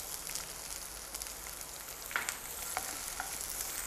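Finely chopped onion dropped into oil with green chillies for fodnicha bhat, a quiet, steady hissing sizzle with small crackles and pops, faint and close, no talking.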